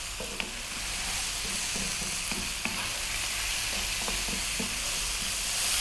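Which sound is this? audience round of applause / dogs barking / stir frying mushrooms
stir frying mushrooms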